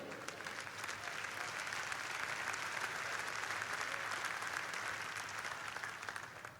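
A church congregation claps continuously in praise during a Portuguese-language sermon. The applause forms a dense, steady roar of many hands, fairly distant and even, with no speech over it.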